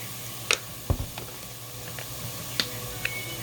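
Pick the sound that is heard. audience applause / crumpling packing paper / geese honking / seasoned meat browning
seasoned meat browning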